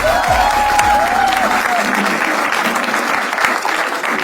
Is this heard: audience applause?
yes